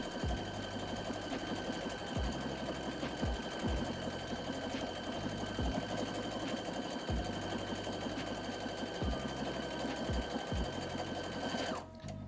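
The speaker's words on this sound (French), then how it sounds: "Mise en route. Et notre boutonnière va se faire en automatique, j'ai plus rien à faire." A Brother sewing machine of the NV10/NV15 or A series automatically stitching a buttonhole, a close steady motor hum with rhythmic needle chatter that shifts pace every second or two, then stops by itself at the end.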